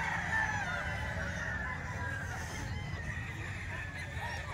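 Chickens and roosters at a crowded market, with clucking and crowing mixed into a dense murmur of the crowd, moderately close and steady.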